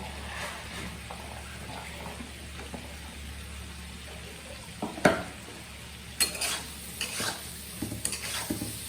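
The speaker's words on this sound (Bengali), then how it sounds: "এখন আমি পটলগুলো দিয়ে দিচ্ছি দিয়ে একটু কষিয়ে নেব" Pointed gourd frying for an egg and gourd curry sizzles softly in a pan while a utensil stirs and scrapes, with occasional sharper clinks against the metal and no talking.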